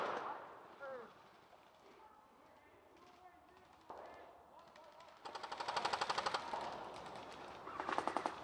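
An airsoft grenade goes off in a smoky outdoor game, bursting into a loud, rapid crackling rattle that repeats in two close bursts, with shouts and talk from players before it.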